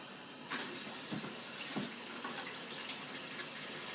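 Water poured onto a big plate makes a soft, continuous splashing and trickling, faint and steady throughout with a few slightly louder spatters.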